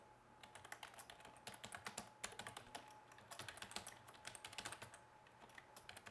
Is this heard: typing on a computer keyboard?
yes